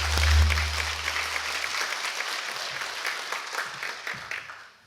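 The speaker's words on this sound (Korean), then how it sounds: "큰 박수로 신부님을 모시겠습니다." An audience at a hospital pastoral ministry symposium claps warmly to welcome a priest to the podium; the applause is loud and dense from the start and tapers off gradually toward the end.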